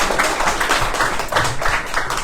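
Audience at a literary conversation event clapping for a guest, a short burst of close, uneven handclaps with a few distinct louder claps standing out.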